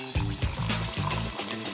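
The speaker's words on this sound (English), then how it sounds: "I'll pour the oil into the pan." Cooking oil pours into a pan in a short, close glugging stream with bubbly, pulsing gurgles.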